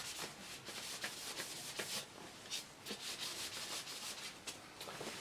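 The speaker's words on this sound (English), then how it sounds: "And then we'll just give that a quick wipe to remove any metal polish." Cloth rubbed across a perspex furniture shelf to clear off leftover metal polish, a steady soft rubbing hiss with repeated short strokes, fairly quiet and close, with no voices.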